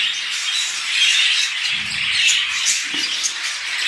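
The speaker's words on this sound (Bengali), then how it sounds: "আর এখানে দেখতে পাচ্ছেন বাজরিকা," Budgerigars in a cage chirp and twitter continuously, a dense high-pitched chatter from several birds close by, with no talk.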